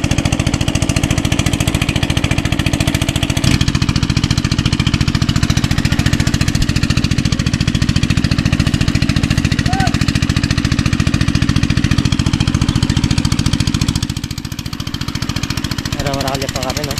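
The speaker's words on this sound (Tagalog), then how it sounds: "pagpasensya nyo po, malakas po yung makina." A loud motor, likely a boat engine, drones steadily throughout with a rattling, hammer-like pulse, dipping briefly near the end; voices talk faintly beneath it.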